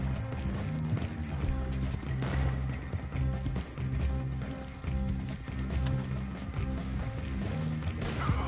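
Horse hooves galloping in Red Dead Online, rapid repeated hoofbeats in a driving rhythm that runs throughout, close and fairly loud over music and game ambience.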